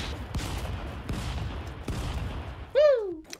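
In the Stick Fight video game, a few sharp gunshots fire at an irregular pace over a busy game background, followed by a loud swooping electronic effect near the end.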